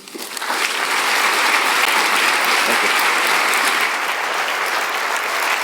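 An audience at a 2019 keynote welcomes physicist Erik Verlinde with steady applause that swells within the first second and holds at a loud, dense level throughout.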